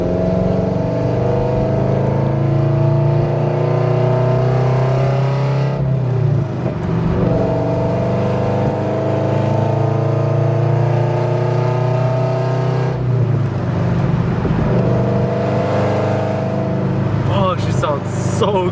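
Car engine fitted with Tomei UEL headers revving hard, loud sustained droning exhaust that climbs in pitch with two sharp drops as the throttle is released, close to the microphone.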